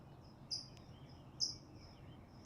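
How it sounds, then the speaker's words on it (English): Small birds chirp around 5 a.m. at dawn, three short bright high tweets spaced about a second apart, fairly near but soft, over a quiet low background hiss. "And like 4:50 is where I started to hear a little bit of chirps."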